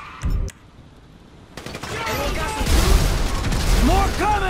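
Rapid gunfire in a chaotic shootout during a GTA 5 bank heist, sharp shots and dense bursts building after a quiet start, with whistling ricochets and clattering debris; shouting voices mix in.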